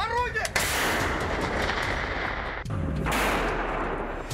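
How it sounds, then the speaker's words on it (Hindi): A loud wartime explosion from the Russia–Ukraine conflict, a broad sustained roar of blast and rumbling debris, briefly cut by a second heavy boom midway, with no voices. "ये वो धमाका है जिसकी आवाज पूरे यूरोप ने सुनी।"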